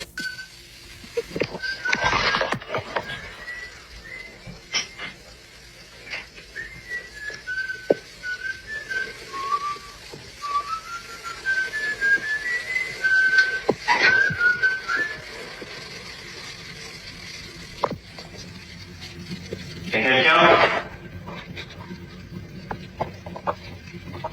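A person whistles a slow, wandering melody outside a bedroom window at night, moderately distant, with a few sharp knocks or clicks and a brief louder burst near the end.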